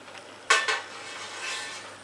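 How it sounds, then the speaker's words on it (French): A lid is set onto a Megahome water distiller with a quick double clatter of plastic and metal, close and sharp, followed by a faint rustle and quiet room tone. "et je rajoute maintenant le couvercle."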